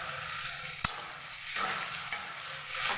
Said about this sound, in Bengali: আস্তে আস্তে আমি লাল লাল করে ভেজে নেব